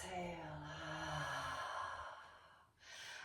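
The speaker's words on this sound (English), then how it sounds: "Deep inhale through nose, even if it's noisy, and exhale through mouth." A long, steady breath pushed out through the mouth during a shoulder and spine mobility exercise, close and fairly loud, fading after about two and a half seconds before a second breath starts.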